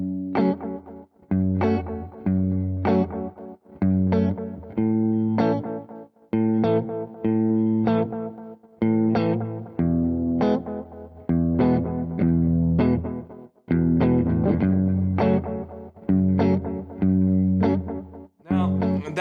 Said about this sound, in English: I've got a delay pedal here, and I'm kind of relying on my reverb and my delay